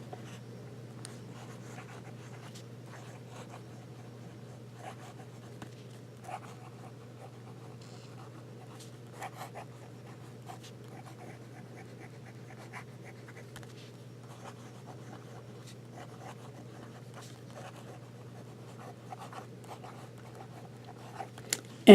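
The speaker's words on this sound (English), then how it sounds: "So some writing." Pilot Vanishing Point fountain pen writing on paper, a faint close scratching of the nib in small irregular strokes over a low steady hum, no speech.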